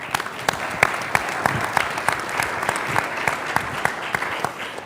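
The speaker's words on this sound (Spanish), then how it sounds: "Le damos también un aplauso." A room of attendees at a Chilean science policy panel claps for a panel member, a dense, steady round of applause with sharp individual claps standing out, lasting throughout.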